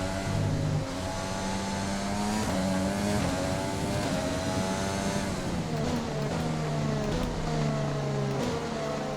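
An F1 race car in the F1 2020 game screams through Eau Rouge in the rain at Spa, the engine revving steadily with rising and falling pitch as gears shift, loud and continuous with no talking.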